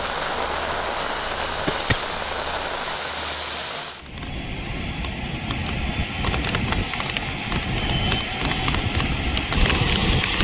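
Heavy rain on Hyderabad streets, a dense, loud, steady wash of falling water that shifts midway to a slightly different rushing texture.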